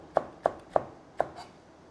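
A knife chops through an onion on a board in four crisp, separate strokes, each a sharp near tap with brief crunch, spaced unevenly and ending in quiet.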